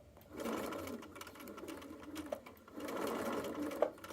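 A sewing machine stitches a fanny pack's top panel onto a zipper, a steady close motor whir running for several seconds, briefly easing off mid-clip before resuming, with no talk over it.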